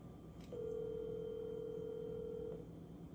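A single steady phone tone sounds for about two seconds over a quiet background hiss while a call goes through before being sent to voicemail.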